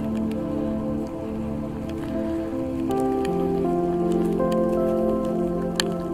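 Rain falls steadily in a park, a dense hiss of drops pattering on surfaces, close and even throughout, with a low tonal hum underneath and no voices.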